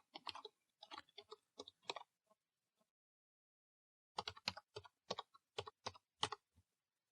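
Fingers tap on a computer keyboard while details are entered into an account form: quick, close clicking keystrokes in two short bursts separated by a silent pause.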